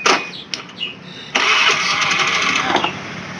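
Motorcycle with a double battery setup and an electrical short being started, a few brief cranking clicks then the engine catching and running steadily at close range.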